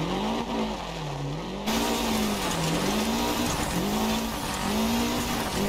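Lancia Delta HF Integrale rally car in Dirt Rally 2.0, sliding through a corner on an Australian stage with its engine revving and the pitch weaving up and down, loud and close, tires scrubbing beneath.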